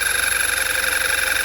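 A 2011 VW car engine idling, a steady even hum with a faint rhythmic pulse, close and continuous with no talk.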